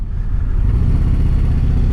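Harley-Davidson CVO Road Glide ST V-twin motorcycle engine idling, a steady, close, low rumble that stays even throughout, with no voices over it.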